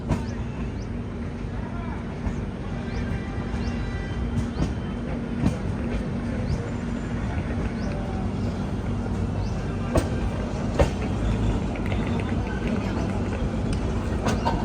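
Haridwar railway station platform with a train standing nearby, a dense steady rumble and hum with occasional clanks and clicks, continuous and fairly loud, with faint voices mixed in.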